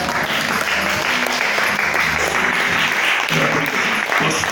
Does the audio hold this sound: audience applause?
yes